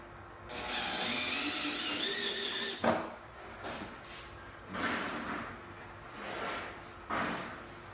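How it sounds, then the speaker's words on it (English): Power drill boring a hole through the trunk of a Honda Goldwing GL1800 motorcycle, a sustained whine for about two seconds followed by several short, close bursts. "So we now have the hole drilled in the trunk"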